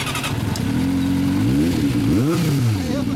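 A 2003 Kawasaki ZRX II motorcycle fitted with a Moriwaki exhaust, revving up and down close by, with its loud engine note rising and falling through several throttle blips.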